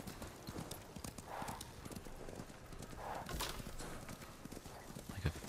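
Steady clip-clop of horse hooves trotting at a quick, even pace in the video game Ghost of Tsushima, with a couple of soft whinnies and faint background noise.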